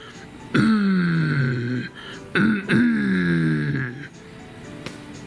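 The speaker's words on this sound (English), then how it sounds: "Coughing and throat clearing." Two long, rough, guttural throat-clearing rumbles, loud and close, separated by a short pause, with faint background noise underneath.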